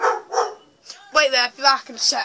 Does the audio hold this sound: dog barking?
yes